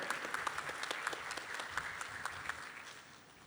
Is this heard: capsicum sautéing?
no